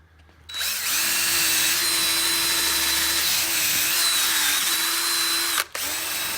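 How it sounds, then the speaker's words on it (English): A DeWalt power drill fitted with an extension and a polishing cone spins up and runs at a steady high whine, close and loud, with a brief dip near the end before resuming. "We're going to get out the handy dandy DeWalt with the extension and the cone so we can get right down in here."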